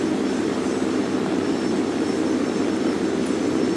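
Steady droning roar of an enemy aircraft engine in War Thunder, a continuous loud hum with no breaks and no voices.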